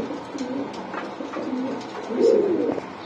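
A pigeon coos softly nearby, a few low throaty calls with a fuller, louder coo toward the end, heard alone.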